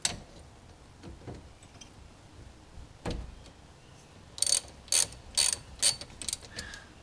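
Ratchet wrench clicking while loosening brake caliper bolts on an Infiniti M45 during a brake pad and rotor job, heard as a few scattered clicks and then a series of sharp, close ratcheting bursts in a quiet garage.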